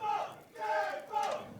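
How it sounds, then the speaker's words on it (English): Esports fans at a Counter-Strike grand final chant and cheer in rhythmic waves, a crowd swelling twice in quick succession, moderately loud and slightly distant. "Still got the fans cheering for Tempo."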